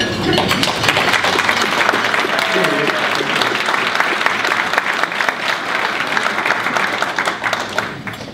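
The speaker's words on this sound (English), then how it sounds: "I'd like to ask the principal of Ridgecrest Intermediate School, Jaime Mancilla, if he would stand up for an applause" Audience at an Educator of the Year award ceremony applauding, a dense, loud, steady clapping that continues throughout and fades slightly at the end.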